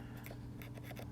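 Scissors snip and trim wire while a vape RDA is being built, a few quiet, close cutting clicks over a steady low hum.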